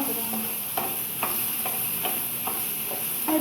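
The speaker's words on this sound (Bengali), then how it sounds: "এখানে সসেসটা ভাজছি, হালকা তেল দিয়েছি, ভেজে নেবো" Sausage frying in a pan with a little oil gives a steady soft sizzle, with faint scrapes or stirring taps about every half second.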